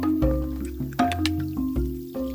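Chopped lemongrass shoots being washed by hand in a forest river, with steady close splashing, squishing and dripping water throughout.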